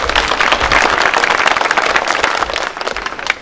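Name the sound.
audience applause welcoming guests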